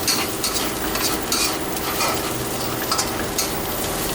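Thai curry paste is stir-fried in a pan for a spicy catfish stir-fry, with a steady loud sizzle under continuous scraping and stirring strokes, close up and without speech.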